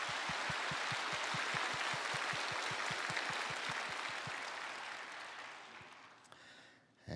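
Warm applause from a church congregation welcoming teenagers to a worship service, broad and steady for several seconds, with a rhythmic low thumping pulse underneath before fading out.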